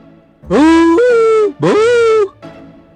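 A person imitates a dog with two drawn-out, rising vocal calls, close and loud, sounding more like howls or whines than sharp barks, followed by a brief fainter trailing sound.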